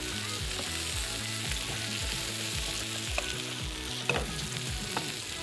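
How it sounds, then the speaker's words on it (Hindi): Butter tadka for sarson ka saag sizzles and fries steadily in a pan, a loud close crackle with stirring scrapes and a couple of sharper pops, no talking. "थोड़ा सा और फ्राई करेंगे।"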